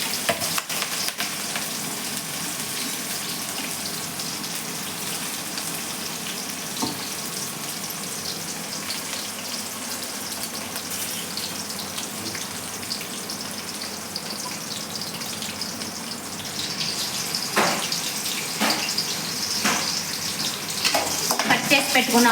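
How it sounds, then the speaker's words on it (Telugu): Sliced onions and curry leaves fry in oil, a continuous close hiss of sizzling that swells louder near the end, with occasional stirring knocks breaking through. "ఆనియన్స్ని ఇలా ఆయిల్లో బాగా ఫ్రై అవనివ్వాలండి"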